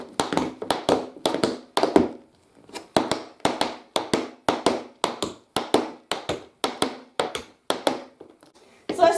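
Tap shoes strike a hard floor in a steady run of sharp, close clicks and heel hits, about two per second for nine seconds, loud and alone with no talking.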